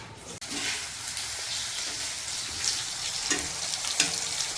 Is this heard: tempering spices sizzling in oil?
yes